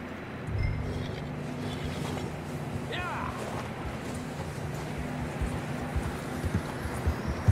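Horse hooves clip-clop steadily in Red Dead Redemption 2 gameplay as riders travel together, a continuous rhythmic trotting close by, with a brief whinny-like cry in the middle and game ambience underneath.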